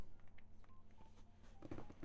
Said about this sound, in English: Your Pixel XL should be ringing now.